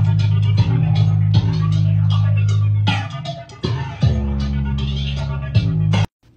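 A heavily distorted sub bass drones loud and steady under a busy electronic music track, with dense mid and high layers and rhythmic hits, dropping out abruptly near the end.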